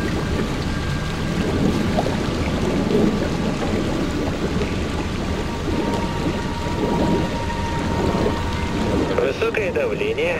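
In Splinter Cell Blacklist, a dense storm pours heavy rain and rumbles with thunder in one continuous, loud wash, steady from start to finish.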